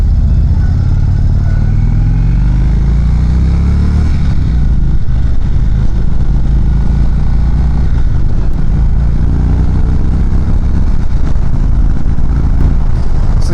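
A 2019 Indian Chieftain Dark Horse engine on a test ride, a loud continuous poppy rumble that rises and falls with the throttle, mixed with steady wind noise and no talk.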